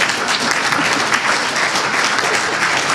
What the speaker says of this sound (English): So we can applaud for Alyssa while she walks up